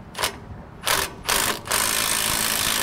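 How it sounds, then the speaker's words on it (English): A tool loosens caliper bolts on hydraulic disc brakes of a 10K trailer axle, giving several short mechanical bursts that run into a long continuous rattle, close and fairly loud. "So we're gonna remove the caliper bolts."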